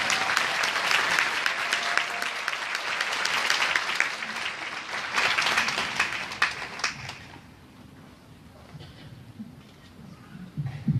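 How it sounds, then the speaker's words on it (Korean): An audience at a 2018 welfare rally in Busan gives a candidate a warm round of applause, dense and sustained for about seven seconds before dying away into quieter room noise with scattered small sounds. "큰 박수로 맞아주시면 감사하겠습니다"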